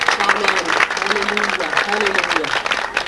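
Wedding guests clap together in a lively burst while a voice sings or speaks over the applause.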